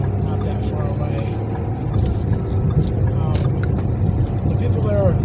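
Engine and road drone from inside a car driving a short distance, a continuous low rumble with passing noise, while a person talks over it throughout.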